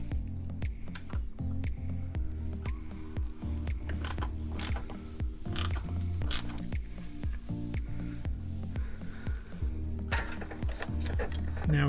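Ratchet tightening 8mm bolts during radiator replacement on an Infiniti QX56, with steady rapid clicking of the pawl running continuously and fairly loud throughout, close to the microphone.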